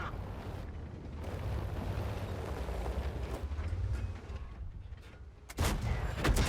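A tank cannon firing in the World of Tanks video game, a heavy rumbling boom that rolls on for several seconds, followed near the end by another sharp loud blast.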